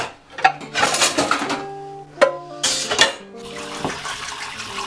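Beans are rinsed in a metal pot under a running kitchen tap, with bursts of splashing water, clinks against the pot and short pauses between pours.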